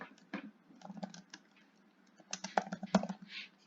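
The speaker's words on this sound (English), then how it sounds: "let me just type it out." Keys clatter on a computer keyboard in quick irregular bursts, fairly close and quiet, with a denser flurry of typing near the end; no one speaks.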